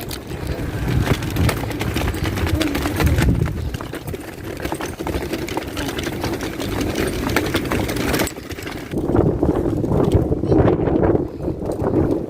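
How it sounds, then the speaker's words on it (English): Strong wind buffets the microphone with loud, continuous low rumbling and gusty roaring throughout, easing slightly near the end. "It's so windy."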